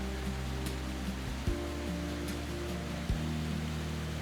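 Close view of a powerful Icelandic waterfall on the ring road, a broad steady roar of falling water near at hand, with a low rumbling hum beneath and a couple of brief bumps, no voices.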